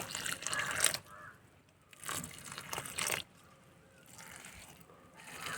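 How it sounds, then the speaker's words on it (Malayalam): Water trickles and splashes onto the soil of a begonia propagation pot in short separate bursts, quiet and close, with pauses between the pours. "ഇനി ഇതിലേക്ക് നമുക്ക് വെള്ളം ഒഴിച്ചു കൊടുക്കാം"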